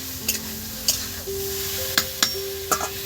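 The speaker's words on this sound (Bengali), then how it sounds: "এবার এইটা মশলার সঙ্গে ভালো করে নেড়ে চেড়ে নেবো বন্ধুরা" Rice and lentils being stirred with spices in a pan for khichuri: soft scraping strokes and a few light clinks of a spoon against the pot over a low steady sizzle, close by, with no talking.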